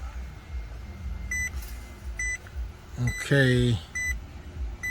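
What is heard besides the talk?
Maserati Quattroporte turn signal ticking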